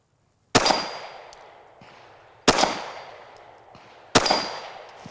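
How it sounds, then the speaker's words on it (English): Three sharp, loud handgun shots fired at a slow, deliberate pace about two seconds apart, each with a ringing echoing decay, in an outdoor slow-fire shooting drill. "We're gonna shoot three shots."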